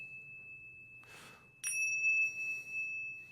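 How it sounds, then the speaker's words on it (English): Two meditation tingshas struck together near unison, ringing a sustained bright tone with slow beating wobble; a soft strike first, then a louder clear strike that rings on alone in a quiet room. "So I've got two tingshas."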